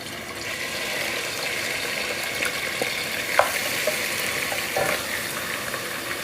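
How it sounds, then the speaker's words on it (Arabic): Minced meat fries in a pan with a steady, even sizzle, broken by a few soft clicks and scrapes of stirring, close and moderately loud. "نزلي يا اختي اللحمه المفرومه بتاعتك"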